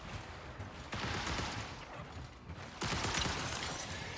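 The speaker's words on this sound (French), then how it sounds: "Ça tire dehors." Gunfire from the video game Marathon crackles at a distance outdoors in repeated bursts, a dense fusillade rising and falling over about four seconds with no voices.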